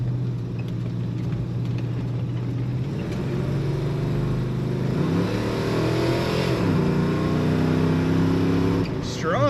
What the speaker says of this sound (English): Nice aggressive exhaust note, especially when you're behind this car.